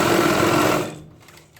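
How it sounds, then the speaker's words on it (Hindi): Close, loud sewing machine whirring steadily while stitching pajama trousers, then winding down and stopping after about a second. "फिर इससे सिलाई चलाएं।"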